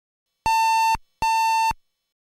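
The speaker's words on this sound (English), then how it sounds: "Your PC might beep once loudly to tell you it started up correctly, or multiple times to tell you if there was an error." Two identical PC speaker beeps, each a clean, flat electronic tone lasting about half a second, separated by a short gap and heard alone against complete silence.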